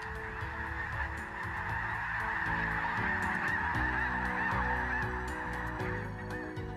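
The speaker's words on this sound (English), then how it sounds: "The southern migratory flight by thousands of geese is a sure sign that" Thousands of geese honk during their southern autumn migration over the Manitoba countryside, a dense, steady chorus of overlapping calls that carries on without pause and with no talking.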